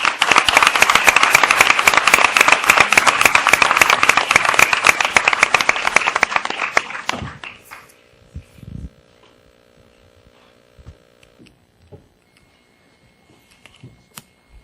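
An audience at a consuls' presentation applauds, with dense, loud, sustained clapping for about seven seconds that then stops abruptly, leaving scattered faint knocks and rustles in a quiet room.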